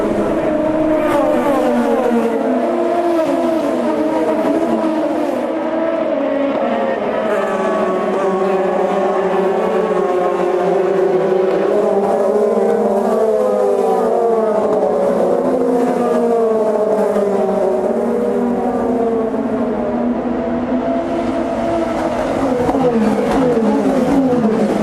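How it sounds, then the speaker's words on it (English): IndyCar race cars accelerate at the start of a race in Detroit, a loud, continuous layered engine roar with shifting pitches as many cars rev up together and pass near, filling the whole stretch. "we watch the start as the pace car turns right and Will Power leads the field down to the green"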